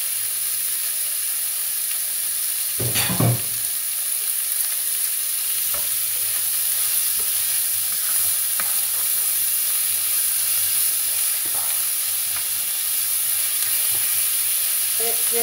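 Beef frying in a pan over moderate heat, a dense continuous sizzle with a sharp scrape of stirring near the start and faint occasional clinks afterward.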